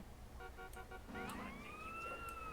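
Police siren in the video game GTA San Andreas, a rising and sustained wail that sweeps upward and holds, faint and somewhat distant under a steady background hum, with a few short beeping tones before it.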